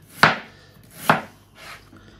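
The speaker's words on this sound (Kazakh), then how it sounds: "Енді жуамызды да турап аламыз." An onion is chopped with a knife in three separate close strokes about a second apart, each a sharp crisp cut onto a board, the last one softer, with quiet in between.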